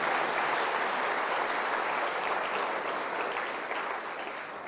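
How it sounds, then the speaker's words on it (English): A full audience at a game character creation presentation applauds the presenters, dense sustained clapping that stays loud and even before tapering slightly toward the end. "so let's give them a round of applause."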